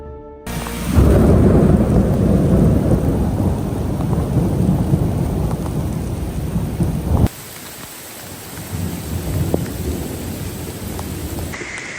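Heavy rain pours down hard during a forest thunderstorm, a loud dense hiss with deep rumbling thunder mixed in, then the downpour drops slightly in level and continues steadily to the end.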